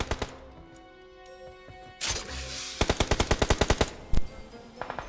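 Gunfire in a battle royale video game, several heavy single shots followed by a rapid burst of automatic fire, loud and close, then a louder blast and a short trailing volley.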